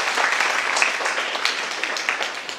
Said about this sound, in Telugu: క్లాప్ కొనండి ఒకసారి.